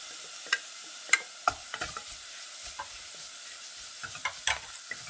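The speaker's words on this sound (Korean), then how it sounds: "표고도 볶아주세요" Shiitake mushrooms stir-fried with beef in a pan for Korean beef and mushroom rice porridge, giving a soft continuous sizzle broken by light scraping stirs and a few sharper clicks of the utensil against the pan, with no voices.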